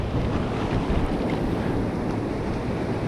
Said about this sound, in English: you see the big crashing waves, and there's some dead water, and there's some more crashing waves right in front